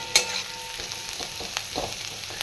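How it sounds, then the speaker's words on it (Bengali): A soft, continuous sizzle of chopped onion, green chilli and potato frying in mustard oil, broken by occasional sharp scrapes and clinks of stirring close by, with no voices. "পেঁয়াজ কুচি কাঁচা লঙ্কা কুচি আলু কুচি ভাজা ভাজা হয়ে গেলে"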